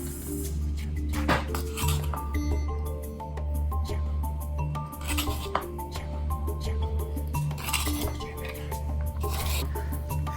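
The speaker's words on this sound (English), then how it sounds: "add a half a tablespoon of salt to each one of these and continue to stir" A spoon stirs salt into homemade air freshener jars, scraping and clinking against glass in an uneven run of rubs and taps, close and fairly loud, with no talk over it.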